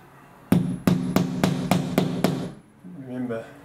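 Seven sharp hammer strikes drive wall anchors flush into a timber wall, evenly spaced and loud, followed by a short stretch of quieter voice.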